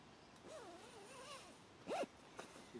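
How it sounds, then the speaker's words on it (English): A Snugpak Softie sleeping bag zipper, slightly sticky, is drawn along in short faint pulls, with one louder rasp near the end, close and quiet with no voices. "The zip's a bit sticky, as most zips are, with material getting underneath it"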